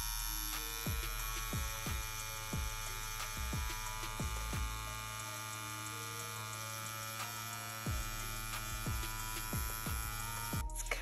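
A tattoo machine fitted with a liner cartridge runs during lining practice, giving a steady close electric buzz with a strong hum and repeated brief pitch dips as it works, with no voices.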